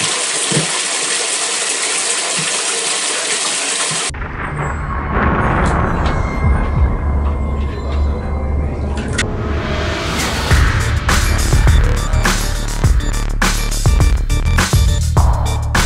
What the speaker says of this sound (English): let's go run his bath water.